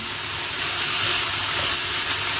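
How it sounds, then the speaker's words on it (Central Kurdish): Loud, steady sizzling of onion and chicken breast frying in a hot pan, a continuous bright hiss with no talking. "مدەی 5 دقەت لەگەڵ ئەو پیازە سۆری دەکەینەوە"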